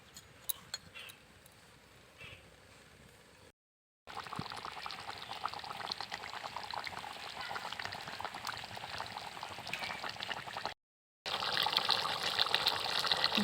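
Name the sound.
duck curry gravy boiling in a pot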